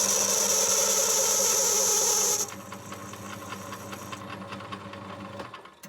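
Lathe parting blade cutting into a toilet seat hinge part, a steady loud machining whir that drops abruptly partway through to a quieter running hum with faint ticking, close, no talking.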